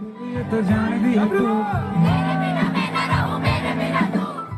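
A dense crowd roars and cheers at an election rally in Khatima around a Bollywood singer on stage, a loud continuous mass of voices close by, with amplified speech over it.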